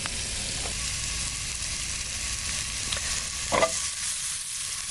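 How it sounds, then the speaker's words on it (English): Onions and mushrooms saute in butter in a hot pan, giving a steady, even sizzle throughout with a few faint scrapes of stirring. "we're going to saute the onions and mushrooms in the butter"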